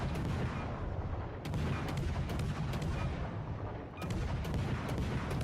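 Warship guns boom in a World of Warships: Legends naval battle, switched to AP rounds, with a steady rumbling bed of distant firing and several heavier salvo hits spaced a second or two apart.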